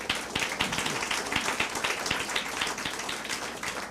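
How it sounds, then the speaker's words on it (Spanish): A church congregation claps during a Spanish-language sermon, a moderate, lively patter of many hands with some rhythmic claps, fairly close and without talk over it. "Den un aplauso al Señor."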